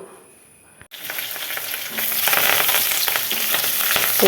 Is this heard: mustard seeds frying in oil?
yes